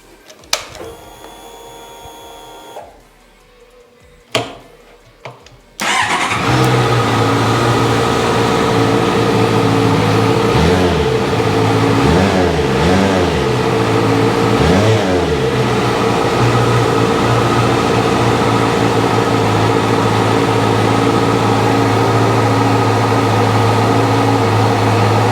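Honda CBR650F motorcycle with about 3,990 miles, its engine cranking and catching after a few quiet clicks, then settling into a loud, steady idle with a smooth, continuous drone and brief revs, close to the bike with no talking.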